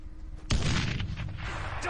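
A bomb blast in the zombie video game Dead Island Riptide: one sudden loud boom that cuts in partway through and leaves a dense, sustained rumbling roar, with game noise audible before it.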